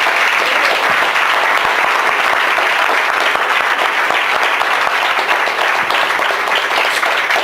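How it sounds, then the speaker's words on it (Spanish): An audience applauds panel participants at the close of a talk on directing imagery, with loud, dense, continuous clapping that stays even throughout. "Si los podemos aplaudir"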